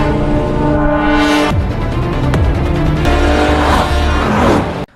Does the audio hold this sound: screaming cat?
no